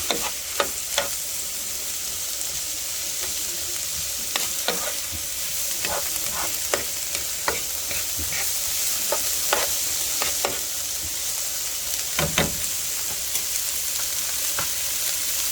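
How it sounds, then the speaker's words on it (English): Onions sautéing in a pot for chicken and sausage gumbo, a steady close sizzle with frequent sharp scrapes and clacks of a spoon stirring, no talk. "And the rest of the onions in there. Saute all this up."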